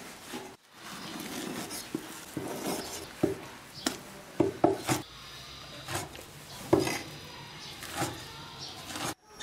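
A knife chops through a pig lung on a cutting board, giving a series of irregular soft thuds and wet cuts at close range, with short pauses between strokes and no talking.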